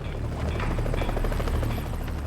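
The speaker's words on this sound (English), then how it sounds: "Time after time, the helicopter is forced back." A rescue helicopter hovers near an icy mountain face, its rotor beating steadily with a loud, continuous thrum that fills the whole stretch, no voices over it.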